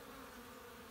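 Honey bees buzzing outside their hive in late autumn, a steady, even insect drone filling the whole second with no pauses or voices.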